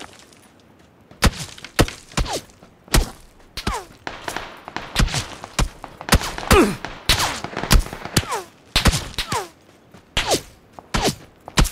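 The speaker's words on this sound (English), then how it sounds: "Where are we getting shot from?" Battle royale video game gunfire: close, sharp shots fire in irregular bursts and single cracks, with thuds and impacts scattered between.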